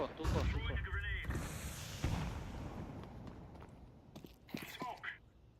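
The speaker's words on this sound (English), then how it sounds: "Throwing a grenade." A grenade thrown in the Counter-Strike video game goes off as a sharp, heavy blast near the start, followed by other shots and game effects, with players' voices talking over the action.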